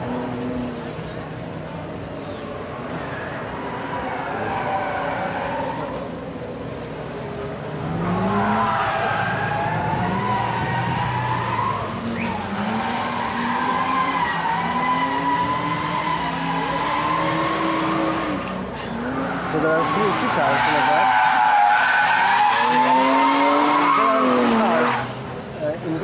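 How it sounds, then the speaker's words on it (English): An F1 race car engine runs at the Goodwood Festival of Speed, its loud revs rising and falling repeatedly over a sustained stretch while people chat nearby. "See, the F1 car just fired up."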